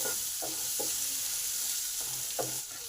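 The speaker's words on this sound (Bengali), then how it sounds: "পটলেতে ভালো করে মিশিয়ে দিলাম দু মিনিট কষে নিলাম" Pointed gourd (potol) tossed with salt and turmeric is stir-fried in a pan: a steady, close sizzle with a few soft spatula scrapes and knocks, and no voices.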